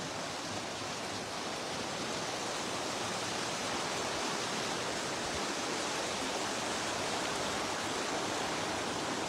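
Deep floodwater, two or three feet of it, surges down both sides of a washed-out road in Aiken County. The roar is loud and unbroken, a dense rushing wash with no voices over it.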